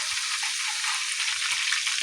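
Chicken satay skewers fry in a pan with a steady, close, bright hiss and crackle that runs the whole time, broken by a few light clicks and knocks from the skewers being turned.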